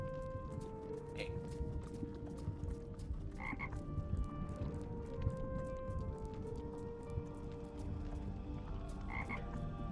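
Frogs croak repeatedly in Wizard101, collected as bait from the bank of the Blackwater, over a steady game ambience with faint clip-clop and some voice-like sound in the background.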